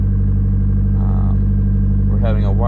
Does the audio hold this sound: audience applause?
no